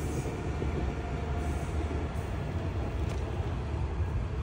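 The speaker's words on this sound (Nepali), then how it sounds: "फेरि ट्रेन आयो" A train rumbling past nearby, a steady low heavy roar of wheels and cars on the rails lasting the whole stretch, loud and continuous with no talking.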